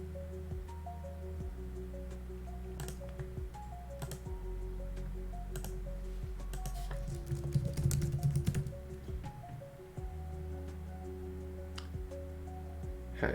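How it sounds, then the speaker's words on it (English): A streamer clicks a mouse loudly and aggressively, giving sharp, irregular clicks close to the mic over a low steady hum and soft tonal background. "I'm not fond of aggressive, loud mouse clicking either"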